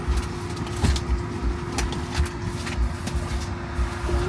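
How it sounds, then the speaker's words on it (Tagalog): Cabin of a moving Tesla electric car, with a steady low road rumble and a faint whine throughout, close and even, and no talking. "Daddy, nandito ako sa Tesla car."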